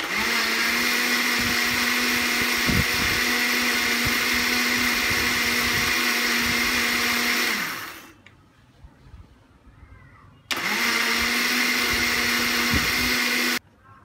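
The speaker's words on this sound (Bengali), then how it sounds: "থেমে থেমে কয়েকবার ব্লেন্ড করে নেব।" A kitchen blender whirs loudly and steadily while emulsifying olive oil into homemade mayonnaise, stops abruptly for a few quiet seconds with faint rattling, then starts again at full speed and cuts off.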